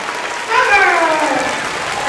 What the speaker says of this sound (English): I would like you to Give yourselves an amazing round of applause.